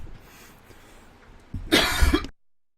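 A quiet room hum, then a single loud, close cough near the end before it falls silent.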